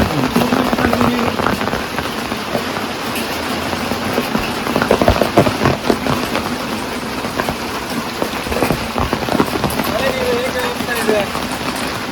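Heavy rain pours down steadily, with rainwater splashing, running and falling from a roof nearby; a voice speaks intermittently over the constant wash.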